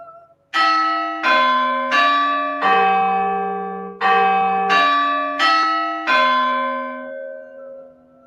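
A church bell rings out loud and clear, about eight ringing strokes with lingering overlapping tones, a short pause midway, no voices.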